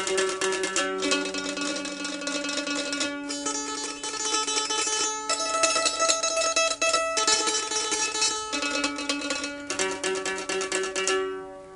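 A plectrum held tilted at an angle strikes the strings to give a doubled attack on each note, producing a steady stream of bright, rapid plucked notes with brief breaks between phrases, heard alone without talk.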